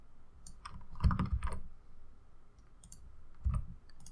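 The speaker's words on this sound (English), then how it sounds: "press Control Alt Z on your keyboard" A computer keyboard in use during a Photoshop tutorial: a few scattered key clicks, then a cluster of heavier presses as a shortcut is typed, then another thump, close and fairly quiet with no talk.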